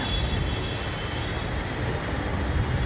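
Train rumble heard from near a railway on a journey between Gaya and Varanasi in India, a steady low noisy drone that holds evenly throughout with no voices.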